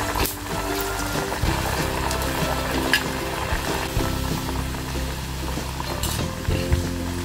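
Farali fasting nuggets frying in oil on a medium-to-low gas flame, a continuous close sizzle with faint clinks of utensils and occasional brief scrapes, no talk.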